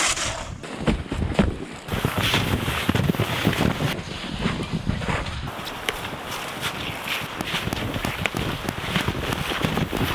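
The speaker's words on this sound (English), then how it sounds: "So we'd be a lot more sheltered there out of this big wind." Strong winter wind blows across a lake during a backcountry winter camping trip, a loud, steady roar buffeting the microphone with gusts throughout and no talking.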